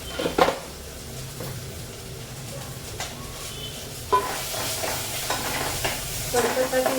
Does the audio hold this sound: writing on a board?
no